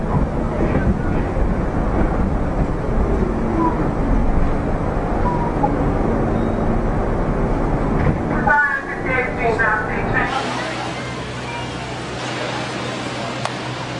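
Train rolling past a city platform, a loud rumbling roar that carries steadily, then thins with squealing and a sharp drop as it fades, leaving quieter street ambience with people talking.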